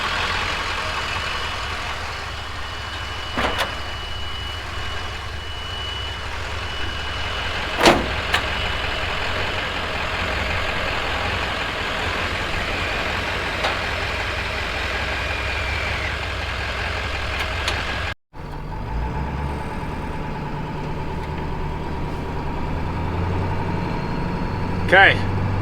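Steady truck engine drone heard from inside the cab while towing a Chevrolet Blazer on a trailer, a continuous low rumble with road noise throughout, briefly cutting out near the end before resuming.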